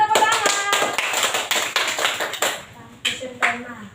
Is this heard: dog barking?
no